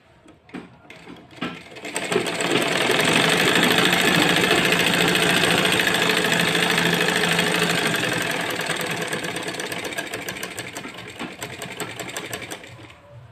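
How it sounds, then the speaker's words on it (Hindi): Sewing machine stitching the fitting seam of a designer kurti, running in one steady, loud continuous burst after a few short starts, with no talking. "अब फिटिंग की सिलाई हम इस तरह से करेंगे"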